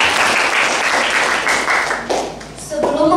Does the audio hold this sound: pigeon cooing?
no